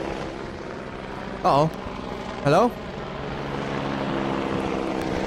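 A helicopter in the Minecraft From the Fog world gives a steady, droning rotor hum throughout, while a voice calls out twice over it.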